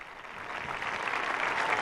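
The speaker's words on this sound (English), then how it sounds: "now applauding, all on their feet" Thousands of university students at the Catholic University of Portugal give a standing ovation during a papal visit, a broad, dense wash of applause that swells steadily and fills the hall.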